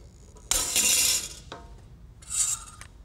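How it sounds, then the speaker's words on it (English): A pop rivet gun pulls a rivet on a brake factory floor: a sharp snap as the stud breaks off, then a raspy metallic squeeze and a second shorter crunch as the handle is worked again, close up with no talk. "You just insert the rivet in through the hole and start pulling the handle."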